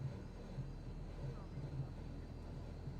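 A Cessna 172SP piston engine idling at about 1200 RPM in Microsoft Flight Simulator, a steady low propeller drone with a pulsing rumble that holds evenly throughout.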